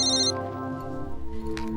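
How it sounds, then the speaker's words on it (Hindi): A mobile phone ringtone plays a bright electronic melody of sustained tones, fairly close and steady, with no talking. "आपका फ़ोन हमेशा गलत वक्त पे क्यों बजता है?"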